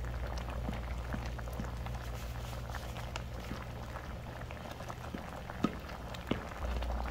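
Curry made with vegetables and meat simmers in a pot while being gently stirred, a constant soft bubbling with scattered pops and a couple of sharper spoon knocks near the end.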